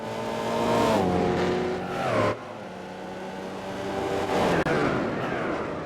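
Race cars contest a Gran Turismo 4 race, including a Mercedes and a GT car, with loud, layered engine roars that rise and fall as gears shift and revs climb, heard alone.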